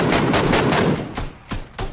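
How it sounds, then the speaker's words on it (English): Rapid close-range fire from an MK14 rifle in PUBG, a dense loud burst of shots in the first second, then several sharp single reports spaced apart, each with a short tail. "Oh, this gun is sick. MK14."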